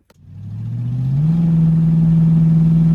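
A car engine cranks, catches and revs up, settling into a steady, loud, close drone after a transmission change.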